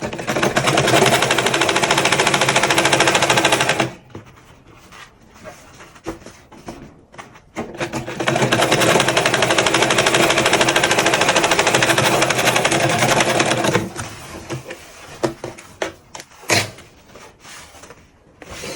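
Sewing machine stitching a padded turban, two long steady loud runs of several seconds with a quieter stretch of handling clicks between and after, close up and without speech.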